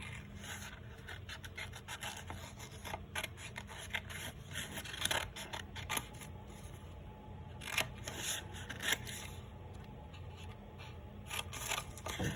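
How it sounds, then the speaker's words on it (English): Scissors cut through a stack of folded paper in one go, giving a close, quiet series of crisp snips and rasping paper crunches in an uneven rhythm, with no talking. "And what I'll do is cut all this at once,"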